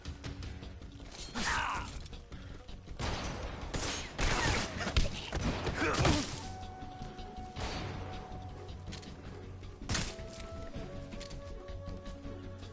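Grenade exploding in the Metal Gear Solid Delta video game, a burst of sharp crashes and rumbling blasts in the middle, then settling into quieter mechanical hum and scattered clanks.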